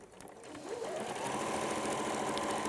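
A sewing machine stitches a fabric seam, starting up and settling into a steady, close, continuous hum and whir after a brief back stitch.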